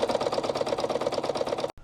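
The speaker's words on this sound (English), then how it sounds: "Little Goodwill sewing machine seems to be doing all right." A small secondhand sewing machine runs steadily as it stitches curtain fabric, its needle beating a fast, even mechanical rhythm close by before it stops abruptly at the end.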